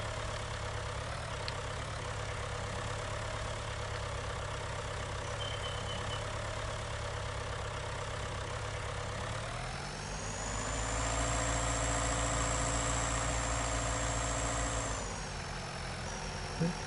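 A tractor engine idles steadily in Farming Simulator 19, a constant low rumble that swells and rises in pitch partway through as if revved, then settles back, with no talk over it.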